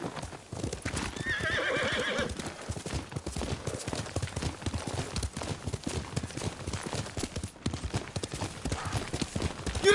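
Clopping hooves and a horse's whinny and snorts, close up, with rustling movement and a steady rhythmic trot under a game soundscape in Ghost of Tsushima.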